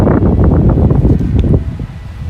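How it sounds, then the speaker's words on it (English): Strong wind rushing through pine trees at an outdoor cemetery setting, a loud steady roaring gust that fills the whole clip and eases slightly toward the end, with no talking. "Lots of wind through the pine trees."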